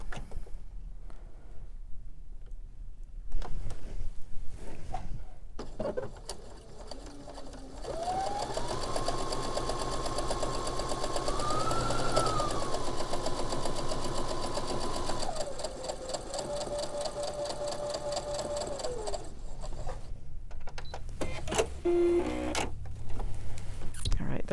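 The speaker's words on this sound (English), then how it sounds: "I'm going to sew a 1/4 inch on either side or both sides of that marked line" A sewing machine stitches quarter-inch seams beside a marked line on quilt fabric, a steady close mechanical whir running for several seconds with a rising, falling motor pitch, then short clicks and handling noises at the end.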